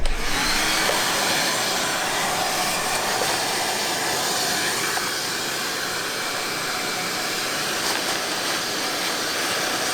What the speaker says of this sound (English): Now we're gonna vacuum it out again.